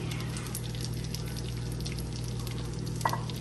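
Butter melts and sizzles in a pan for a restaurant-style mattar paneer, a steady close crackling hiss with one brief clink near the end and no talking.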